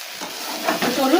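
Shredded cabbage stirred in a hot pan, a short burst of sizzling with scraping spoon strokes, close and fairly loud.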